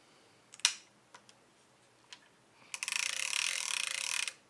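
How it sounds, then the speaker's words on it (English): A few scattered clicks, then a fishing reel's clicker ratchets in a rapid, loud buzzing run for over a second before stopping. "And the clicker on this is amazingly loud too."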